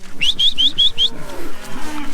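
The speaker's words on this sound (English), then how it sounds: "Just seen a cow here." A dairy cow gives a low, drawn-out moo on a wet, cold farm morning, heard under a nearby run of five quick, bright bird chirps.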